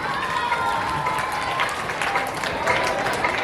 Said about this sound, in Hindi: मैं चाहूंगा कि एक बार फिर से आप जोरदार ताली हो जाए इस सुंदर गीत